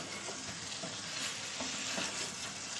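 Water goes into a pan of chicken kosa with potatoes, bringing a dense, even hissing sizzle that holds steady and close for the whole short stretch.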